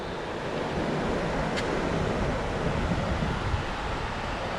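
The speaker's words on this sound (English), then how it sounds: "It's a big river." A big river flows steadily outdoors as a broad, continuous rush of water, loud and unbroken throughout with some wind noise mixed in.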